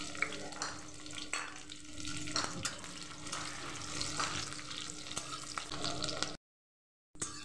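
Green chillies fry in hot mustard oil in a wok, a soft, steady sizzle with light stirring scrapes, close and fairly faint, cutting out briefly near the end.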